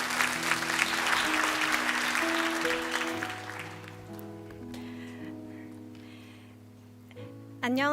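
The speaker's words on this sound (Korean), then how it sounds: "우리 큰 박수로 우리 자매를 좀 초대해 주시면 감사하겠습니다" A church congregation bursts into loud, dense applause to welcome a young woman to the front for a testimony. The clapping fades over several seconds while sustained keyboard or organ notes carry on beneath it.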